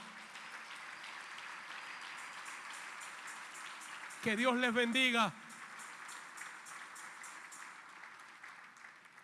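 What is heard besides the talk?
congregation applauding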